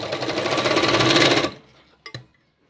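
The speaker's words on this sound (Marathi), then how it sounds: "ही दुसरी पट्टी ही इथं अशीच शिवून घ्यायची आहे" A sewing machine stitching a waistband strip onto a blouse runs in a fast steady whirr for about a second and a half, then stops, followed by a couple of faint clicks.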